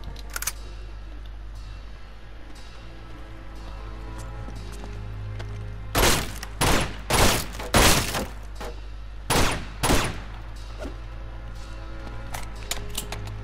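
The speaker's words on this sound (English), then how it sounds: "Fireworks are going off." Fireworks going off outside in a neighbourhood, a cluster of sharp cracking bangs at mid-distance after several quiet seconds, with steady low hum underneath.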